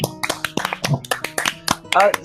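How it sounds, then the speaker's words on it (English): Players at a tabletop Dungeons & Dragons session clap for a couple of seconds, a loose run of sharp, close hand claps of uneven rhythm, with voices talking over them. "Round of applause."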